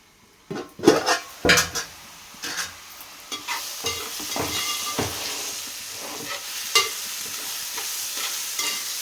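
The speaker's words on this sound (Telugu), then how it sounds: "మూత పెట్టి ఒక 2 నిమిషాలు మగ్గనివ్వాలండి ఉల్లిపాయలు." Onions stewing under a lid in a pan for a village-style dried fish and drumstick curry, with a few clattering stirs and lid knocks at the start, then a steady soft sizzle carrying on alone.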